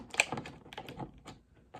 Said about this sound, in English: Time to bring in the trusty scissors.